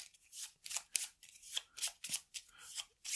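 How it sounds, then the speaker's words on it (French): Board game cards being shuffled by hand, a quick run of about ten crisp riffling bursts in a steady rhythm, close and clear with no voices. "On va mélanger tout ça."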